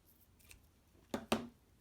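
Two quick, crisp snips of scissors cutting double stitch satin ribbon, close up and clear against a near-silent background, the second snip slightly louder than the first.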